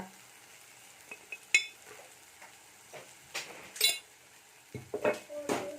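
Garam masala, chili powder and coriander powder stirred into oil in a pan for an avarekai palya, heard as scattered soft scrapes and clinks of a spoon against metal with light sizzling, fairly quiet.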